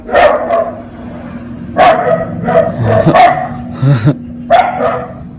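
A dog barks repeatedly at close range, sharp irregular barks with short gaps, mixed with a few softer whines.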